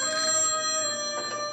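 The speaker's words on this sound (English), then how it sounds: "Answer the phone, my dear." A telephone ringing in a steady, sustained electronic tone, clear and fairly close in a quiet room with no talk over it.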